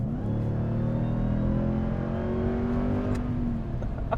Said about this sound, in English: Oh my, the shift's definitely sped up in sport mode.